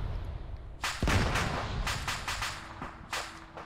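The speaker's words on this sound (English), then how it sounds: "They just dropped a bomb" Bomb blasts and gunfire in an Arma Zeus military game session, with several sharp detonations and cracks scattered across a steady rumbling backdrop, one heavier low boom near the middle.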